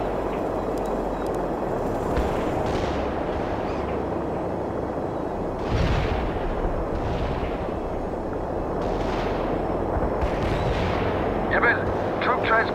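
Artillery fire in World in Conflict, a rumbling barrage of distant booms and blasts rolling across the whole stretch, dense and continuous with game radio voices speaking over it.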